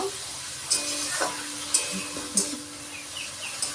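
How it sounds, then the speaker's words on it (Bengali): Country chicken cooking in a pan sizzles at a steady low hiss, broken by a few brief utensil clicks at spaced intervals; faint birdsong is also present. "আমি রান্না করছি চিকেন দেশি মুরগির মাংস"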